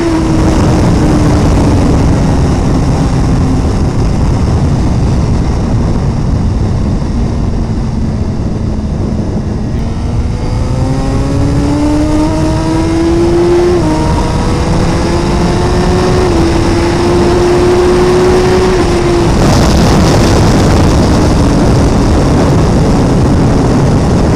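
A 2017 Suzuki GSX-R1000R engine drones loudly and continuously, its pitch dipping, then rising and stepping through shifts as it downshifts into third gear on a twisty road, with steady wind rush throughout.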